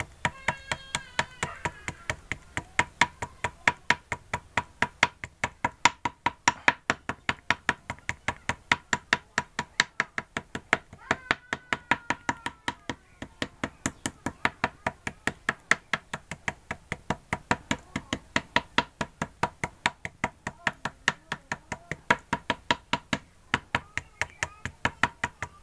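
A spoon dabs thick acrylic paint onto a canvas to build texture for a flower painting, making a steady run of quick, soft taps that repeat for the whole stretch at close range. No one speaks over the tapping.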